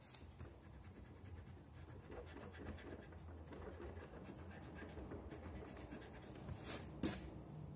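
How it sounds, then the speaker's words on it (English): Pencil drawing of a face being erased with an eraser, a soft, steady rubbing and scratching on paper that continues in quick repeated strokes, with a couple of brief louder scrubs near the end. "I'm gonna erase the middle one."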